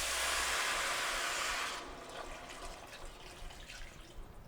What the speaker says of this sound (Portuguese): eu vou colocar para vocês 2 litros de água na nossa preparação